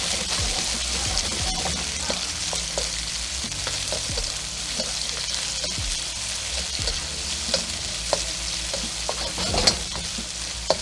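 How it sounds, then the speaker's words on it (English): Onions stir-frying in hot oil for garlic honey shrimp with sugar snap peas, a loud steady sizzle overlaid with frequent scraping and tapping of the spatula in the pan. "Let's get these stir fried."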